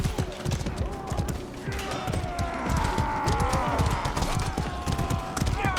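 A horse gallops in the medieval combat video game Mordhau, a steady rapid clip-clop of hooves carrying throughout, loud and close, with clashing battle noise and a voice talking over it.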